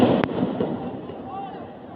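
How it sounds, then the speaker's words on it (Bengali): A single sharp gunshot rings out in the street during a protest by police, followed by a decaying echo amid a crowd's murmur. "দেখছেন দেখছেন পিছাইতেছে আর গুলি করতেছে।"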